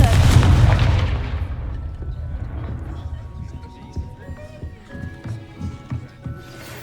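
A Confringo fire spell bursts in Hogwarts Legacy, a loud booming blast at the start that decays into crackling debris and scattered impacts under ambient game sound.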